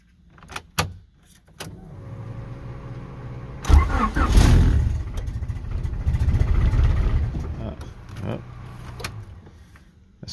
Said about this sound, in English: let's see if the car starts